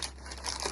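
A plastic bag torn open during an unboxing challenge, a brief close crinkling and ripping rustle.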